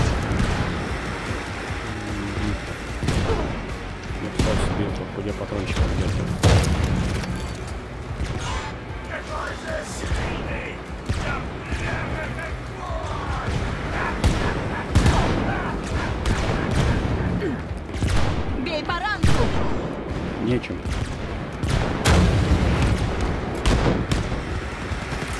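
Gunfire in Wolfenstein Youngblood, with repeated sharp shots and bursts scattered through about twenty-five seconds amid mechanical game noise and blasts, with talk over much of it.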